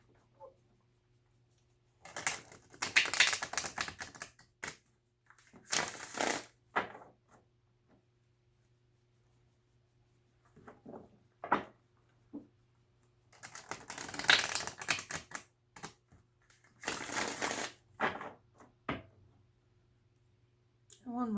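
Tarot cards shuffled and spread during a reading, coming in short papery bursts of riffling and slapping with quiet gaps between them, close and soft.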